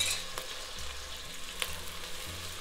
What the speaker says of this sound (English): When the oil is nice and hot, you put around 3 of the onions in there.